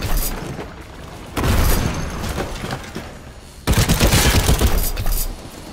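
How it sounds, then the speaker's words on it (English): Two loud, booming grenade blasts in the World War Heroes video game come a couple of seconds apart, each a dense roaring burst that rumbles on before easing. "Incoming grenade!"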